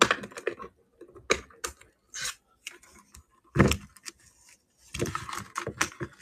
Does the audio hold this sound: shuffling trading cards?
yes